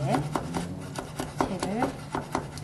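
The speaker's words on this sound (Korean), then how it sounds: "자, 표고버섯도 포를 떠서요. 채를 썰어주세요." A knife slices shiitake mushrooms into thin strips on a cutting board for a Korean steamed pumpkin dish, giving quick, evenly spaced taps close by with faint kitchen noise.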